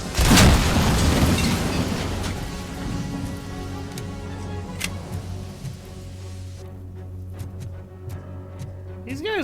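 A smoke grenade bursting open in Robocop Rogue City: a loud, close boom at the start followed by a long hissing, rain-like wash that fades slowly over a low game hum.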